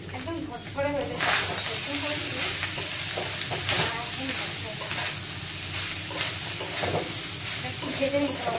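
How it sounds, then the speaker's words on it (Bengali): Food frying in a pan, a steady close sizzle and hiss with occasional soft stirring scrapes, continuous throughout, with a voice faintly present underneath. "একটু ভেজে নিতে হবে"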